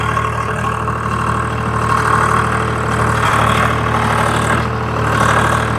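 Swaraj 735 tractor engine running at a steady, loud drone while ploughing with a five-tyne tota plough, settled low in the third low gear, with a brief change in note partway through.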